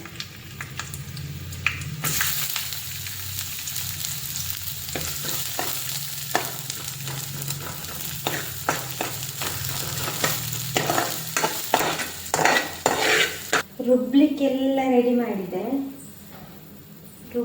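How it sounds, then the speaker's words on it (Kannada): Coriander frying in a pan gives a steady, close sizzle broken by repeated scraping clicks of a spoon stirring. A voice speaks briefly near the end. "ಕೊತ್ತಂಬರಿ ಮತ್ತು ಹಸಿವೆ ಒಟ್ಟಿಗೆ ಫ್ರೈ ಮಾಡ್ಕೊಳ್ಬೇಕು"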